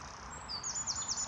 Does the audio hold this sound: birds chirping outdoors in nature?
yes